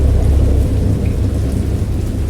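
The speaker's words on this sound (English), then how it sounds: "I heard pearls of thunder and other tones which nature utters" Deep, continuous rumbling thunder from a video game rolls under steady heavy rain, loud and close throughout.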